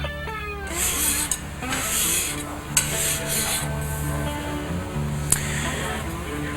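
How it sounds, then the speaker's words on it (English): A metal file rasps across a workpiece during metal preparation for refinishing, in a steady series of scraping strokes broken by a few sharp taps as the file is cleaned with a file card. "Clean your file after every few strokes with a file card."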